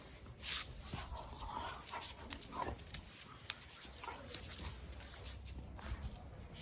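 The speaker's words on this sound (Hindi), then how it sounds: "ये देखो हमारी स्मेल कैसे लेते हैं" A pet dog whimpers and sniffs excitedly around its owner as she comes back home, soft whines and snuffles close by mixed with shuffling movement, fairly quiet and continuous.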